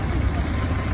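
A motorbike engine idles steadily after being started following flood water damage in Guwahati; a close, loud, low rumble runs without a break.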